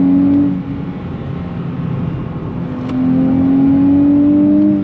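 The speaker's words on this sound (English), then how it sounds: "But I love the sound in the higher revs." The engine of a 2023 Nissan Z revs hard at high rpm from inside the car, a steady loud drone that dips briefly then climbs back as the throttle opens again.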